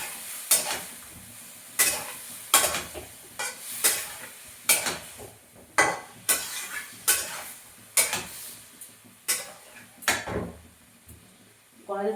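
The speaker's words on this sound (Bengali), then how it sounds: "এই দিয়ে ভালো করে কষিয়ে নেবো আমি সবজিটা" Vegetables with ground cumin, green chilli paste, salt and turmeric are stir-fried in a kadai, a rhythmic series of sharp spatula scrapes and clanks roughly once a second over a faint sizzle.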